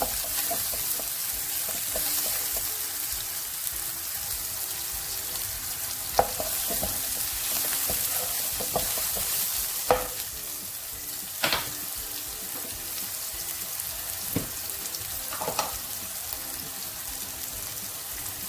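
Food for a homemade pasta dish fries in a pan with a continuous close sizzle, broken now and then by sharp clicks and scrapes of a utensil stirring.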